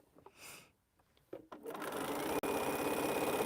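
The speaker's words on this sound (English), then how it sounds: "I'm going to sew on the word." A sewing machine stitches a word onto a quilt. After a few soft handling taps it starts up and hums steadily and close, with a brief break partway through. No one speaks.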